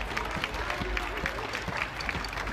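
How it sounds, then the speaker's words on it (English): Scattered clapping from an outdoor protest crowd at Denver's Greek Theater, applauding themselves, short and moderately loud, mixed with crowd murmur and some talking. "Give a clap for yourselves."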